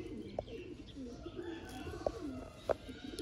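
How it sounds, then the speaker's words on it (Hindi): Sialkoti Chounsray pigeons coo softly in a few short, separate calls against a faint, busy background with light chirps nearby. "ये हैं जी दोस्तों सियालकोटी चौंसरे कबूतर।"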